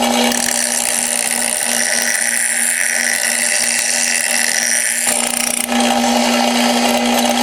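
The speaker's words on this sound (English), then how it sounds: "So I'm going to just grind this thing down a little bit." A power grinder whines steadily and loudly, grinding down a metal hole while a Curt 11327 trailer hitch is installed on a 2004 Honda Accord sedan. Its tone shifts briefly near the end, and no one talks.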